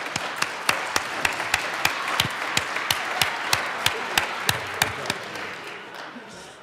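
Applause in a legislative chamber: a small group claps sharply and evenly, about three claps a second, the claps thinning and fading toward the end.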